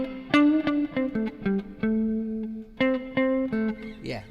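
Clean electric guitar notes and chords ringing with a soft reverb tail, played slowly with gaps, ending with a brief voice.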